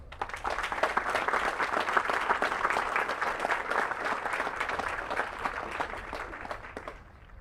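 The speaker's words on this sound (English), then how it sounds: "please join me in giving our awardees another round of applause" An audience at a military regiment graduation ceremony applauds awardees, sustained clapping from a large crowd at a moderate distance that builds quickly, holds steady and fades out near the end.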